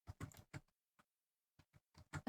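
Bursts of keystrokes on a computer keyboard, typed out during a live coding session; short clusters of clicks separated by pauses, close and clear with no talking.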